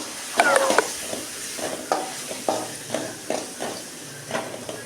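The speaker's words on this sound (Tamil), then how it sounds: "அதுக்கு தான் நம்ம ஆயிலே வதக்குறோம்" Steady hiss of oil sizzling in a pan as spices sauté, with repeated scraping and stirring strokes every half second or so, close up.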